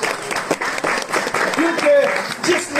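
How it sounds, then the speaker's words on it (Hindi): Hearty applause rises from a sermon congregation while a preacher's voice carries on over it, the clapping a dense, steady patter beneath the speech. "जोरदार तालियां।"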